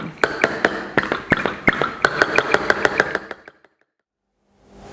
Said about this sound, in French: Et vous voyez, le moteur se remet en route,